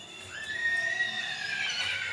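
A horse neighs in a long, drawn-out whinny with a rising then wavering pitch, fairly close and clear over light background ambience, no voices.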